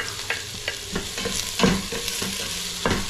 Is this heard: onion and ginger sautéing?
yes